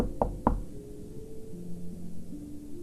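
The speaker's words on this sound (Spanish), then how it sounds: "un fuerte golpe en la puerta lo interrumpe" Two loud, sharp knocks on a door in quick succession, followed by a low sustained eerie drone in an analog horror cartoon setting.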